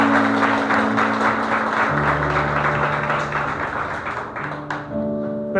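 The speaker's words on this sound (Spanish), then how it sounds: "Denle un fuerte aplauso a Dios" Church congregation clapping together during a sermon, sustained loud applause mixed with a steady musical tone under it, tapering off near the end.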